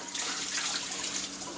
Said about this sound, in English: it's fine to put some hot water in your pan.